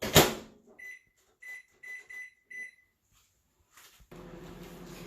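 Microwave oven cooking pasta in a Pampered Chef Rockcrok stoneware dish: a clunk, then a series of short electronic beeps, a quiet pause, and the low steady hum of the oven running.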